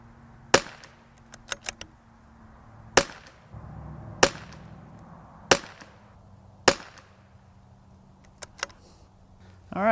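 Sharp, crisp shots from a Tikka T1x MTR .22LR rifle ring out one at a time at steady intervals of about one to two seconds, each a loud snap followed by a short echo.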